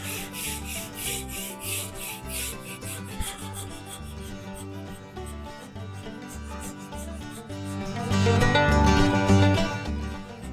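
Steady scrubbing of rust off an old floor loom reed, a continuous rasping rub of brush on metal wires that keeps an even rhythm and grows louder and more vigorous near the end, with no voices.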